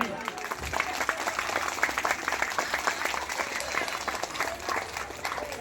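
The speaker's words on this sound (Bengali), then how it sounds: "সবাই মিলে একবার জোরে হাত তালি।" Audience at an award ceremony honouring two rescuers breaks into loud, sustained applause, a dense crowd of clapping hands lasting several seconds with a voice speaking over it.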